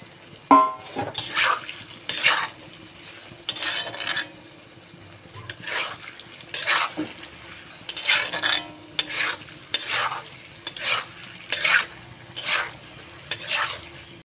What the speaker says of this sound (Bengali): এর সাথে একটু ভাজা হবে চিংড়ি মাছটা।